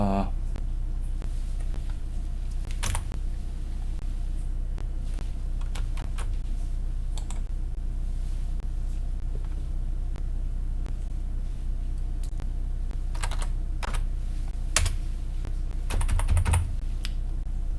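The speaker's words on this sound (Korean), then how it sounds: "그 키보드에서 REC를 치면 됩니다" Irregular clusters of computer keyboard clicks, typing CAD commands in short bursts with pauses between, over a steady low rumble, fairly close.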